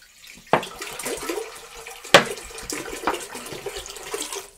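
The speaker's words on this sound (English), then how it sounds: "And we'll pour the rest of our water" Water pours into a pot on a stove for a black tea tannin mixture for strawberry rhubarb wine, a steady close splashing stream with a few louder gushes and no talking.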